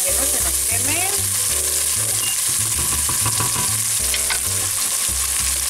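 Onion added to a hot pan of oil while cooking monkfish with chickpeas, a loud, dense, continuous sizzle with stirring noises close to the microphone.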